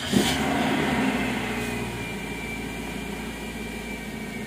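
A Toyota Corolla Altis engine idles steadily just after starting, a low, even hum with a faint high whine that holds throughout.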